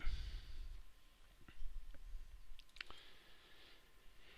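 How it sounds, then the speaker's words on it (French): Mouse clicks in electrical design software come as a few faint, sparse clicks, including a quick double click, against a quiet room with no talking. "je clique droit ici sur une borne et je reclique ici, je fais ouvrir bornier"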